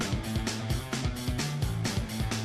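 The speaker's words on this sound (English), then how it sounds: "It's popping. You hear it popping through the exhaust?" A Mopar 440 Six-Pack engine running on a dyno, loud and close, with a rhythmic throbbing exhaust note broken by repeated sharp pops and crackles through the exhaust.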